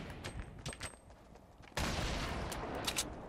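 Fortnite gunfire, a scatter of short sharp shots early, then a sustained burst of rapid firing.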